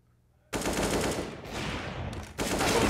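Sustained rapid automatic gunfire during a Counter-Strike match on the Mirage map, loud and dense with a brief dip before a fresh burst, no voices over it.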